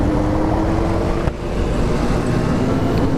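Benelli TNT600i four-cylinder 600cc motorcycle engine running steadily and loud throughout, a continuous drone with wind rush over it and a short dip partway through.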